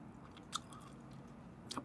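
Crispy layered fried tempura, served with spicy tteokbokki and dumplings, crunches in two sharp bites amid quiet chewing, close to the mic.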